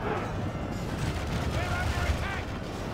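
Dense, continuous battle din from archers loosing volleys in a DaC V5 Ar-Adûnaim skirmish, a steady rumbling clatter of many impacts with some voices mixed in throughout.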